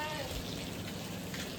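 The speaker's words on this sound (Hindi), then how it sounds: "एकदम से बारिश तेज आने लग गई गाइस" Heavy rain falls in a dense, steady hiss with no letup, fairly close and moderately loud. No one speaks.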